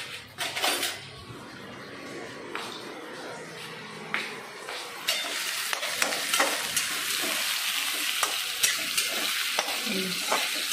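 Onions and chicken frying in white oil with ghee in a pan, a steady close sizzle with a metal spatula stirring and scraping, clinks of pots growing busier as it goes on.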